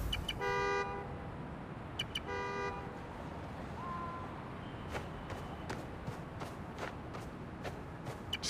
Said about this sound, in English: The more annoying the horn gets, the closer I am.